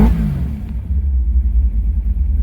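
A clean Renegade 914 fitted with a V8 engine settles from revving to a steady, deep, loud rumble close by, with no talk over it.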